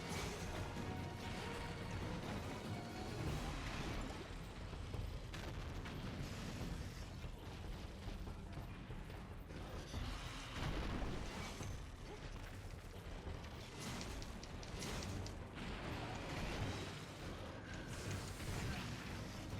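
Dense, continuous crashing blasts from monster explosions in Monster Hunter Generations Ultimate, a loud, busy wash of booms and impacts with game effects layered throughout, without talk.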